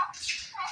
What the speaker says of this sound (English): Oh, there's a turkey. She's chirping at me.